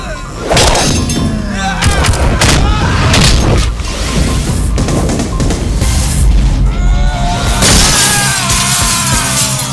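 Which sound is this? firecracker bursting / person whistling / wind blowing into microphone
firecracker bursting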